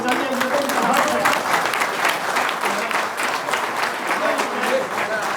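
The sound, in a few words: audience applause at a community ceremony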